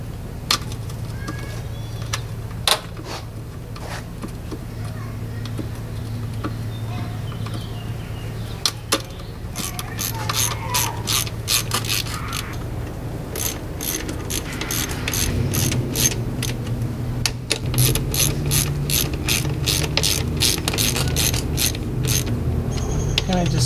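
A ratchet snugs down the valve cover bolts on a 2001-2005 Honda Civic, with runs of rapid clicking bursts, close and fairly loud, over a steady low garage hum and some clanks of tools.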